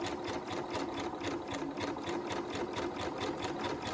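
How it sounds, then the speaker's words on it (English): A sewing machine stitches fabric in a steady, fast mechanical rhythm, its needle pulsing evenly and continuously at close range with no voices. "and then you can just start stitching."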